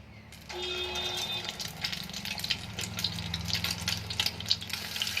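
Egg chops frying in hot oil, a continuous bubbling sizzle that starts abruptly and carries on with crackling pops, close and fairly loud, no voices.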